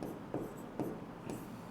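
Writing on a board during a maths lesson, soft scratchy strokes in a few short bursts repeating roughly every half second, close and faint, with no speech.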